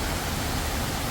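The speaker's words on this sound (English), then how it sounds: "There's the waterfall on this side." A waterfall at Disney's Polynesian resort rushes in a steady, dense roar that fills the whole moment close by, with no voices over it.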